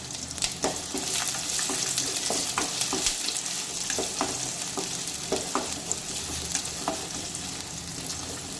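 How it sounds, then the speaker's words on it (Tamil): Busy sizzling and crackling of onions and curry leaves frying in oil, with repeated scraping clicks of a spoon stirring the pan, steady and close. "இப்போ இது கூடவே ஒரு கொத்து கருவேப்பிலையும் ஆட் பண்ணி நல்லா கிளறி விட்டுக்கலாம்."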